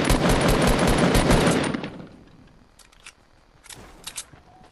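Rapid gunfire rattles in Fortnite, a dense burst of shots lasting under two seconds, followed by quieter, isolated clicks and distant pops.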